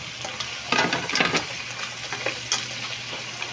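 Mussels sizzling in a pan with garlic and tomato for a spaghetti sauce, stirred with a few scraping strokes over a steady frying hiss, close and moderately loud, no talking.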